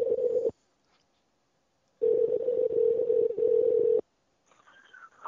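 A telephone ringback tone on an outgoing call to a radio interview guest, two long steady buzzing rings separated by silence, loud and close, with faint line noise at the end.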